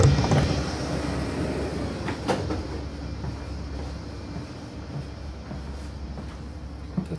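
Regional train RB23 toward Zoologischer Garten in Berlin, a steady low rumble of rolling rail cars with occasional clunks and knocks, heard from on or beside the train with no one talking.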